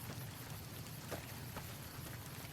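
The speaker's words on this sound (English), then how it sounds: "I think this is the first time we see rain in Fallout in this game, actually." Steady rain in the video game Fallout: New Vegas, a dense even hiss of drops on surfaces that holds at a constant level the whole time, with no voices.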